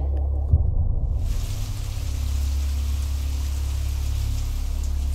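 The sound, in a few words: rain falling outside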